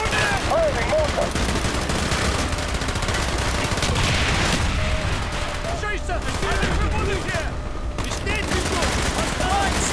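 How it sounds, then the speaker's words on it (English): Dense gunfire and explosive mortar blasts from a Call of Duty: Black Ops battle fill the scene continuously and loudly, with shouted voices and other speech mixed in under the barrage. "Firing mortar!"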